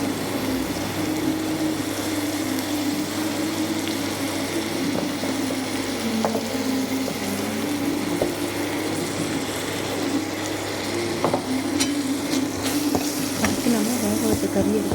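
Turmeric and chili powder sautéing in a pan alongside ginger garlic paste while mutton fry is being made: a steady, close sizzle with light stirring scrapes throughout, with no talking.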